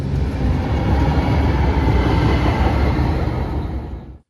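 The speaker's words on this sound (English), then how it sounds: "The Hudson-Bergen Light Rail." A Hudson-Bergen Light Rail train in New Jersey runs along the track with a steady, loud rolling rumble and rhythmic wheel clatter, close by and continuous before cutting off abruptly at the end.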